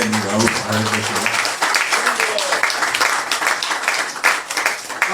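An audience at an award ceremony honouring Rauf Aregbesola applauds, a dense spread of clapping running steadily throughout, mixed with a voice speaking over it at the start.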